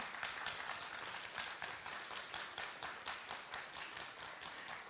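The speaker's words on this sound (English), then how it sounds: "Let's give a big round of applause to all these children." A crowd applauds continuously for children at a school annual day, many hands clapping in a dense, even patter that holds steady throughout at a moderate distance.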